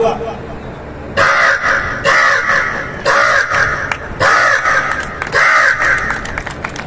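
A loud crow-like cawing, repeated in a rapid series of harsh calls for several seconds, most likely a performer's voice imitating a crow during a staged program, with no other talk over it.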